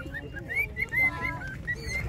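A green-winged macaw gives a quick run of short, faint, squeaky calls against low background rumble, with no clear talk over it.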